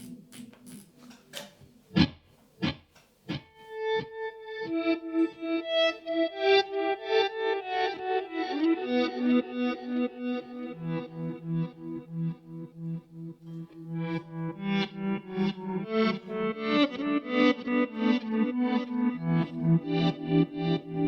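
Electric guitar notes ringing through a Boss DD-200 digital delay pedal set to a long delay, each note repeating in fading echoes that stack into a shimmering, rhythmic wash.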